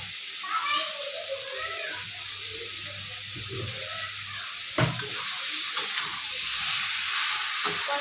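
Chicken kosha stir-fried in a pan with cumin powder, spices and a little sugar until the oil separates; a steady sizzling hiss with occasional stirring scrapes runs throughout, while children's voices and talk carry on over it.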